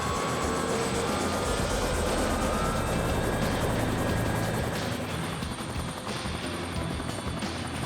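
A helicopter engine running up before lifting a light airplane, with a loud, steady turbine whine and rotor drone that fills the scene without any talk.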